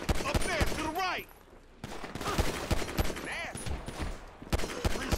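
Gunfire in Grand Theft Auto V rings out as a steady run of sharp shots with rapid bursts, loud and close, while voices talk and shout over the shooting.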